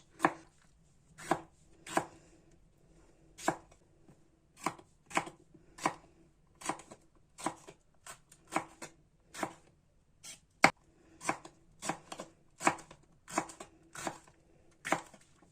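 A knife chops green peppers steadily on a cutting board, sharp evenly spaced strikes in a brisk rhythm with no talking.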